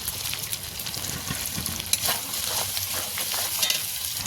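Radish greens curry with fried potatoes sizzles in a pan while a spatula stirs and scrapes, a steady close hiss broken by occasional clinks, with no talk.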